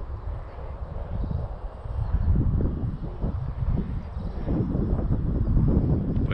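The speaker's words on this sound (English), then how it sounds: "It's getting buffeted about by the wind" Gusty wind buffets a model aircraft on its maiden flight and batters the microphone with a low, rumbling roar that swells and eases over several seconds, with no speech.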